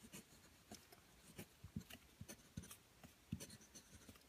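Pen or chalk writing out an equation by hand: a quiet run of short scratchy strokes and taps in an irregular rhythm, close up, with no talking.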